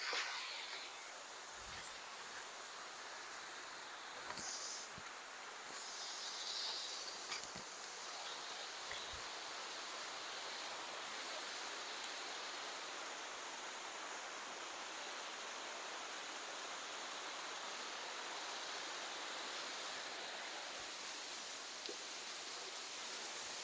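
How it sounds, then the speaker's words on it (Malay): Waterfall near a village, heard as faint, steady broadband rushing that holds evenly throughout, with a few soft knocks and rustles close by. "Ini dia air terjun dekat kampung saya ya."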